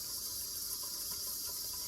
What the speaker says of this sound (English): I'm actually going to put the plug in, fill the sink with cold water.